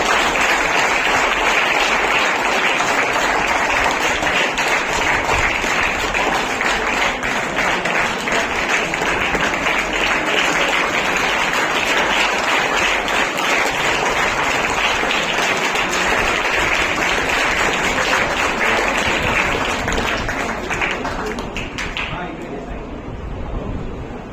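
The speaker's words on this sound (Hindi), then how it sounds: "प्लीज तालियां बजती होनी चाहिए।" Steady, dense applause from an audience at a monthly orator award ceremony, marking a trophy presentation; loud and continuous for over twenty seconds before tapering off at the end.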